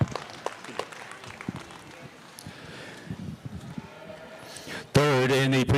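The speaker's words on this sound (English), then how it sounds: "Let's give her a nice round of applause." An audience at a junior livestock cattle show applauds a third-place exhibitor, with a few seconds of scattered, moderately loud clapping from a crowd. A loud voice over a PA cuts in at the end.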